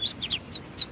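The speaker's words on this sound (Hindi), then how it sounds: "ओह हेलो छोटी सी चिड़िया।" A small bird gives several short, high chirps in quick succession, clear and close, with no talking.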